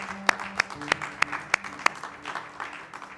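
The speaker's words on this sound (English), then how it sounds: "Should we clap about that?" A small audience at a live radio show claps: a handful of sharp, separate claps in a loose rhythm that thin out and fade within a few seconds.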